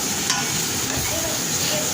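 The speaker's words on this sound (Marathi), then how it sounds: "हे पहा छान परतून घ्यायचा आहे हा कांदा खोबऱ्याचा मसाला" Onion and coconut masala sizzles and fries steadily in a pan while being sautéed, a dense continuous crackle close up with faint stirring.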